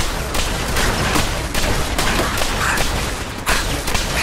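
Gunfire and explosions in Fallout 4 combat: a dense, loud run of rapid shots and booms, repeated bursts layered over a constant roar with no pauses.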